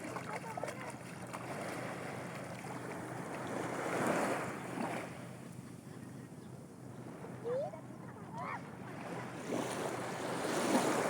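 Shallow water washes back and forth over rocks, a steady rolling surf with soft swells and some wind noise against the microphone, continuous through the clip.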